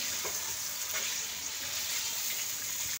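Chicken tikka frying hard over high heat in a karahi, a steady dense sizzle that stays loud and close for the whole stretch, with no talking over it.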